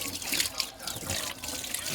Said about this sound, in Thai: เธอล้างถ้วยล้างบ้วงวันนี้